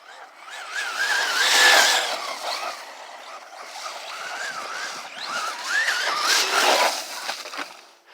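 A 3S-powered RC car bashing through snow whines and whirs with a wavering, pitch-shifting motor tone that rises and falls as it accelerates, loud and fairly close throughout, with no talking.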